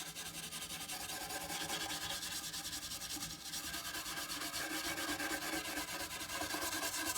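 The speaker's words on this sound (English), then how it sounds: "Small wire brush, very fine wires." A small wire brush with very fine wires scrubs steadily across old wood, a continuous rhythmic rasping close to the ear with no talk.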